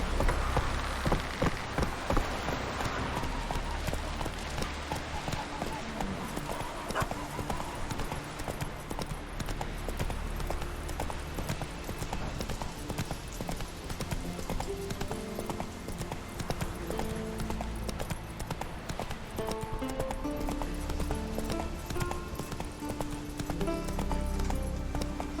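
Horse hooves clip-clopping at a steady rhythmic gait in Witcher 3, the beats continuing without pause alongside a rain-like patter, with a brief neigh possible.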